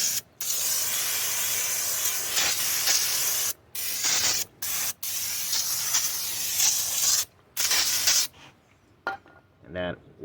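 An aerosol can sprays hissing bursts onto the rear brake area of a Toyota Camry, several long blasts broken by short pauses, close and loud, with a brief voice near the end.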